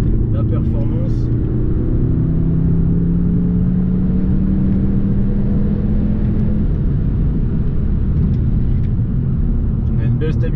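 Car engine pulls hard under acceleration on a test drive, a strong steady rumble with a rising tone, heard from inside the cabin over road noise.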